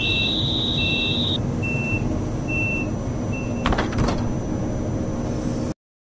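Model railway station doors closing on an N-scale layout, with an electronic warning beep that sounds first as a long tone and then as short repeated pulses, followed by a brief clattering door slide, all over a steady background hum.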